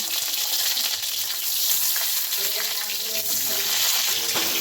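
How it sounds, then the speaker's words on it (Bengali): Eggplant goes into hot oil in a pan for Bengali shukto, setting off a dense, steady sizzle and crackle that stays loud and close with small bubbling pops throughout. "তেলটা গরম হয়ে গেছে, এবার বেগুনটা দিয়ে দিচ্ছি।"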